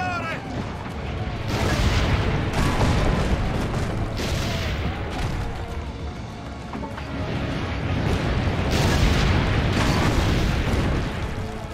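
Heavy booming cannon blasts in Assassin's Creed: Brotherhood repeat over a dense, loud battle din, with voices shouting underneath throughout.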